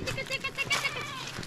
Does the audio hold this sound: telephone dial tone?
no